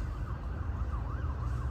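A police siren wails faintly in the distance outdoors near a PaknSave grocery store in New Zealand, its rising and falling tone sitting over a steady low rumble of street noise.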